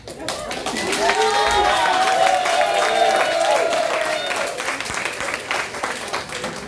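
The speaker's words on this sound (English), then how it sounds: "give them a good Gullah clap" Audience applause with some cheering for a performer at a Gullah Geechee cultural event, a loud sustained burst of many hands that builds quickly, holds steady and tapers slightly toward the end, with voices mixed into the crowd.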